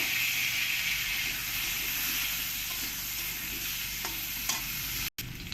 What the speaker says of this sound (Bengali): আলুগুলোই তেলের মধ্যে দিয়ে ভেজে নেব